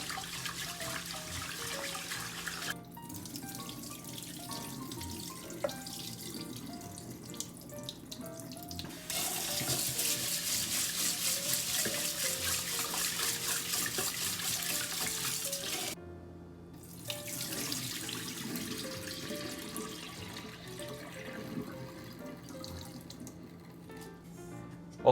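Water from a tap runs into a sink while sushi rice is washed, a steady close splashing that stops, changes with the rinsing and starts again, with no talk.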